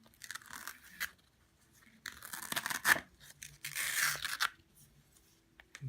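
Cut fabric peeled off a Scan N Cut cutting mat, making several crisp tearing, ripping bursts separated by short quiet pauses, close and moderately loud.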